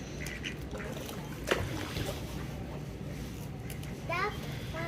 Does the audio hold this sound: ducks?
yes